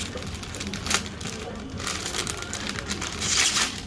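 Plastic lucky bag from a local shop being opened, close crinkling and crumpling of thin plastic in irregular bursts, louder toward the end.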